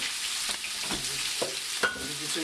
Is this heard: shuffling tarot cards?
no